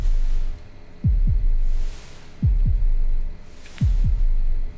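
Heartbeat in the video game After Logout: three loud double thumps, lub-dub pairs spaced about 1.4 seconds apart, low and throbbing over a steady hum, with no voices.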